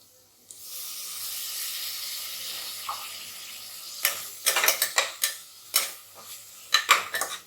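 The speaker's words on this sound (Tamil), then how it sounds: "இப்போ வெங்காயம் எல்லாம் நல்லா வதங்கினோன்னே நம்ம தக்காளி சேர்க்குறோம்" Chopped tomatoes hit a pan of sautéed onions for chicken biryani: a steady sizzling hiss opens the clip, then a run of sharp clinks and scrapes from a utensil against the pan.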